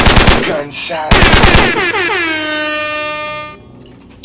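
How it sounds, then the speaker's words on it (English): Rapid bursts of loud gunfire in quick succession, then a long, blaring horn-like tone that holds and fades out. "Gunshots."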